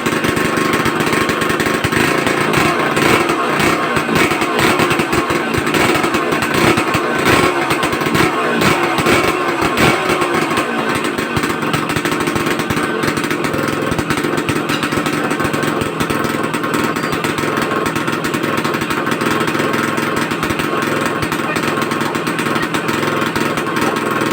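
An old two-stroke motorcycle engine, revived after years in storage, runs continuously with a rough, buzzing, sputtering note, loud and close, steadying out after an uneven start.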